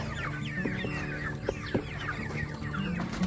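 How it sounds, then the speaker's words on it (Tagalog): Several chickens cluck and chatter continuously nearby, with a few sharp knocks in the middle and no talking. "binibigyan muna ng tubig ni Sir Robin natin ang mga manok."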